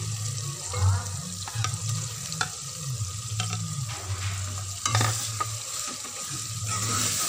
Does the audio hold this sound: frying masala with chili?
yes